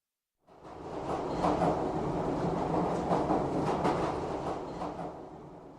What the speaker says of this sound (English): The train will soon be stopping at Central Station.